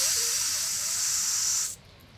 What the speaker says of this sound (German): Wir hören schon, es regnet draußen